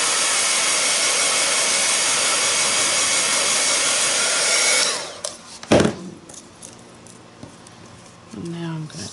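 A hair dryer blows a loud, steady whooshing roar over freshly painted blue nails for about five seconds, then cuts off abruptly, leaving quiet handling sounds and a short voice.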